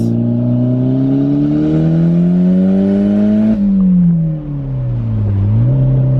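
A Toyota MR2 with an open downpipe roars and revs with a deep, raspy exhaust note, pitch climbing steadily, dropping at a gear shift, then rising again.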